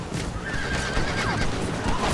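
Horses in the Red Dead Redemption video game whinny while pulling a wagon, a couple of loud neighs over continuous hoof clatter and rolling wagon noise.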